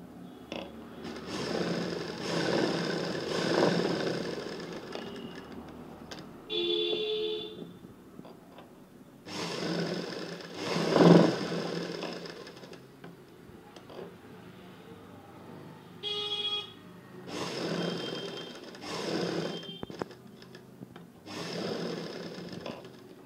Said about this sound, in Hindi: अब हम इस तरह से सिलाई लगाएंगे इसमें।